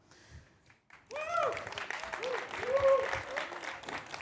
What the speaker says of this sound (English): Please feel totally free to break out into spontaneous applause at any point in time.